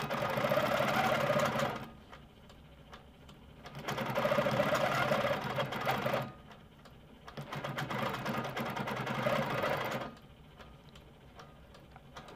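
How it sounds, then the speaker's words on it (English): An Amara ST sewing machine runs in cruise mode, its needle stitching in a fast, steady mechanical patter that swells in three loud runs, with quieter pauses between them. "Notice in cruise mode, my needle's moving even when I'm not moving the fabric."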